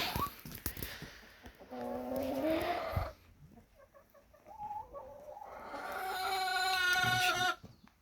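Chickens cluck and make drawn-out, squawking calls close by, in bursts with quieter pauses between.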